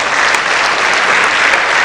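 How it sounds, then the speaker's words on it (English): An audience at a malaria health colloquium bursts into loud, dense applause for the Commissioner of Health, a brief continuous roar of many hands clapping. "we should clap for the Commissioner of Health."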